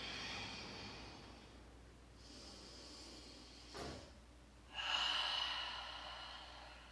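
Slow, deep breaths through the nose during a resting child's pose in a yoga flow, soft and close, with a long inhale near the middle and a fuller exhale toward the end.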